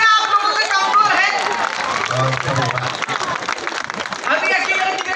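An audience at a Hindi comedy poetry gathering claps and applauds throughout, a dense, loud, sustained wash of hand claps and crowd noise with voices and chatter mixed in.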